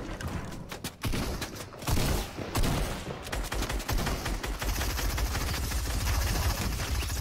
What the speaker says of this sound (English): Their teammate's shooting us from outside